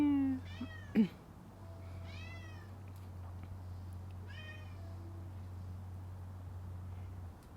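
A pet cat named Gugu meows several times in drawn-out rising and falling calls, close and clear, over a steady low hum, with a short thump near the start.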